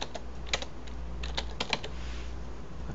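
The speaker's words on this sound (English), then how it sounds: "You type whatever you're looking for." Someone types a search query on a computer keyboard, a quick irregular patter of key clicks with a few sharper taps, close and clear over a low background hum.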